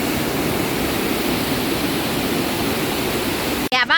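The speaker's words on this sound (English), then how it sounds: "Look, the rain is falling so bad." Heavy rain pours down in Barbados as a dense, steady roar of broadband hiss fills the whole clip, broken near the end by a brief burst of a nearby voice.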